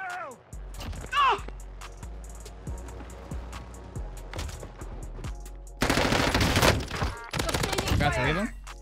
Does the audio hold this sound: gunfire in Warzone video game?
yes